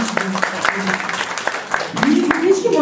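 Schoolchildren and adults clap for a young pupil at a first-grade letters celebration in a Bulgarian primary school classroom, a loose patter of applause running steadily under nearby talking voices.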